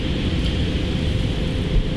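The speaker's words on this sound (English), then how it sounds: "You can probably hear the cars in the background." Distant car traffic on Epping Road forms a steady low rumble, a continuous muffled wash of sound with no distinct passing vehicles standing out.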